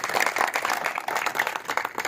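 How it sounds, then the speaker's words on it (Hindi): A crowd claps steadily for the winner of a pigeon-flying tournament, a dense, even patter of applause throughout with no pause. "तालियां।"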